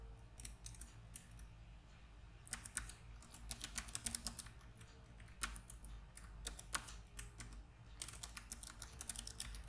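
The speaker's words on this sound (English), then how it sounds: "Here you have to type your new password." Quiet keystrokes on a computer keyboard while a new webmail password is entered, irregular clusters of light clicking taps, soft and close, with short pauses between bursts.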